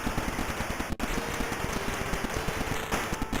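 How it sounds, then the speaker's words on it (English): Rapid, continuous machine gun fire from a PC-88 action video game, a dense rattling stream of shots that runs steadily for the whole stretch, loud and close with no voices. "My health got melted by the fucking machine gun guys"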